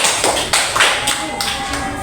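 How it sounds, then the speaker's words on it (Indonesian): Primary school children in a classroom clapping in an irregular patter of claps and taps, with voices talking over the applause and a faint steady tone underneath. "boleh beri tepuk tangan ya."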